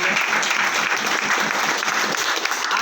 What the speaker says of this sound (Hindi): मैं चाहूँगा मैडम के लिए भी एक बार जोरदार तालियां हो जाए।